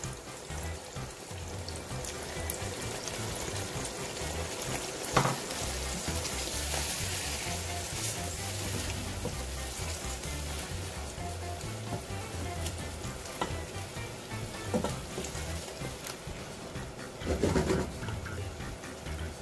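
Chicken karahi sizzles and fries steadily in a pan as spices are stirred in, with continuous crackling, a few sharper clatters of utensils, and no speech.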